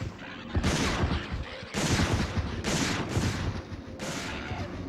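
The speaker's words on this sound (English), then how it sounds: "Rocket launcher." A rocket launcher fires repeatedly in the video game Dino Crisis 2, with several loud booming blasts about a second apart, each trailing a noisy rumble, over a continuous game background.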